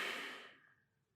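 A single slow, deep exhale from a diaphragmatic breathing exercise, a soft breathy rush that starts close and fades away over about a second.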